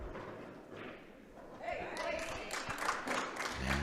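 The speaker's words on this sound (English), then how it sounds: "you can hear her teammates clapping there" Teammates clap at a pool match during a Las Vegas championship, a brief burst of scattered claps and thumps rising in the second half over low room ambience, with voices nearby.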